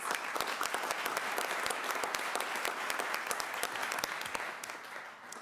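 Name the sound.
audience applause at a board of education meeting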